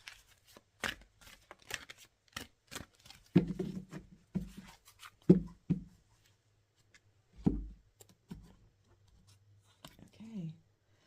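Stiff, slippery tarot cards being shuffled by hand in bursts of riffles and taps, close and fairly quiet, with soft murmured speech between the shuffles.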